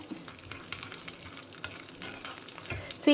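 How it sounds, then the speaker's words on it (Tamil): Mustard seeds, cumin and Byadgi chillies frying in hot oil for a tempering, a dense crackling sizzle with scattered pops and small stirring scrapes, close and steady with no talk. "சும்மா ஒரு கடுகு, ஜீரகம், அந்த பேடிகை மிளகாயையே வறுத்துட்டுருக்கேன்"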